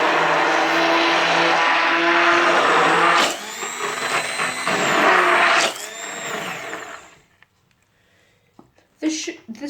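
Electric mixer whirring steadily as it beats pancake batter, a loud continuous motor drone that shifts pitch midway, then cuts off near the end, leaving near-silence with a few light knocks.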